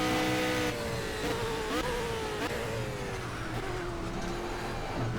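Race car engine in the Project CARS racing game, StanceWorks track, droning steadily with a rising whine and gear-shift dips, loud and continuous throughout.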